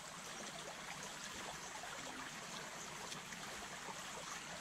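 Steady, faint rushing of a flowing river continues without a break, a soft broadband wash heard from nearby.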